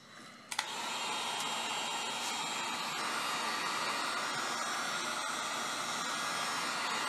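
A heat gun blows a steady, loud, broadband hiss across a section of PVC pipe being softened, switching on after a brief click and running continuously without talk.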